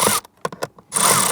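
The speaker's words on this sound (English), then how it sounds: "I'm going to go ahead and put a screw in here." A power driver sets a screw while a blower motor is installed in a 2005-2007 Chrysler 300. Two loud bursts of motor whir are split by a few short, sharp clicks, heard close with no talking.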